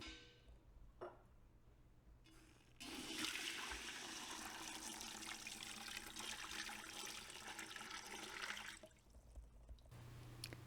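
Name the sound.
water filling a canner pot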